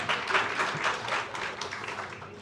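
A roomful of people clapping at a nursing grand rounds gathering, a dense, steady round of applause held at fairly even strength for a couple of seconds before slowly thinning.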